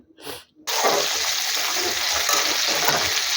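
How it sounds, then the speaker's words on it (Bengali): Fish frying in a pan with plenty of oil, a loud continuous sizzle that cuts in abruptly after a brief spoken moment and then crackles on steadily. "তো মাছ ভাজছি, কতগুলো মাছ আমার ভাজা হয়েও গেছে"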